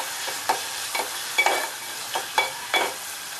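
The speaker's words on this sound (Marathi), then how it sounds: "त्याच्यामध्ये हिंग आणि जिरं टाकते कांदा टोमॅटो छान मिक्स करून घेऊया" Onion and tomato stirred in a pan with asafoetida and cumin for a Maharashtrian masoor amti: a spatula scrapes the pan in about six regular strokes, close and fairly loud over a soft sizzle, with no talking.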